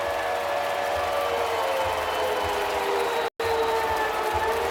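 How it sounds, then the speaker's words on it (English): A large crowd roars steadily through the night home opener of a college football game between Colorado State-Pueblo and Grand Valley State, a continuous broad wash of noise that cuts out for a split second near the end. "the crowd makes some noise down below"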